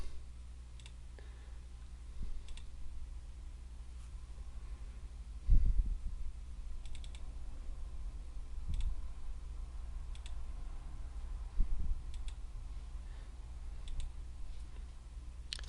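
Light computer mouse clicks while working in CAD software, sparse and faint, scattered singly and in quick pairs over a quiet room background with no speech.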